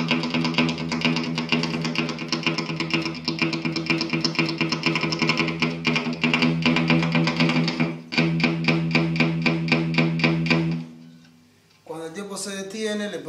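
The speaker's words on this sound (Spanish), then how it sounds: "Les recomiendo empezarlo haciéndolo en la guitarra limpia, sobre la sexta cuerda." Clean electric guitar riff played on the sixth string, a steady fast repeated picking pattern that runs continuously for about ten seconds, briefly pauses, then resumes before fading out, with a short burst of spoken voice at the end.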